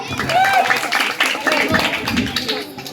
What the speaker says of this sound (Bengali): তার জন্য সবাই হাততালি দাও